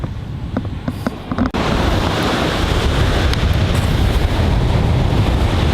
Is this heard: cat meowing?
no